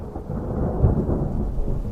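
Steady rain and a rumbling thunderstorm, with low rolling thunder swelling briefly at the midpoint over constant rainfall, no voices.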